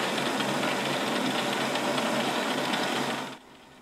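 A lathe cuts a 10 threads-per-inch lead screw, a steady mechanical whir and chatter running close and constant before dropping away sharply near the end.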